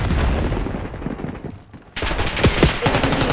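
Close, loud automatic gunfire in Call of Duty: Black Ops 6, a dense rattling burst that dips briefly and then resumes with sharp cracks.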